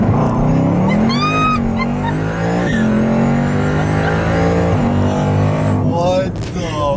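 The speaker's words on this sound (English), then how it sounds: "this is a dig in a 2018 Jeep TRACKHAWK with 890 wheel horsepower" A 2018 Jeep Trackhawk with 890 wheel horsepower accelerating hard from a dig launch, its engine roaring loud and close through rising gear pulls with a brief shift dip, and people's voices are heard faintly over it.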